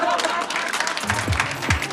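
A studio audience applauds a woman who burned a man's clothes, steady clapping filling the room with voices talking over it partway through.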